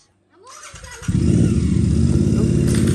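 A dirt bike motorcycle engine cranks and fires up close by, catching after a brief starter whir and settling into a loud, steady idle rumble, with faint voices in the background.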